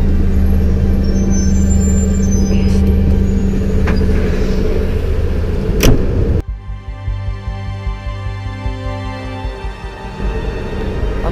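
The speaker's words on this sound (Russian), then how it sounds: "я пока дырчик заведу" Small pony starter engine being started on a heavy road-train truck, first a steady low engine drone, then the starter motor cranking with a rapid rhythmic chugging that runs for several seconds, close and loud.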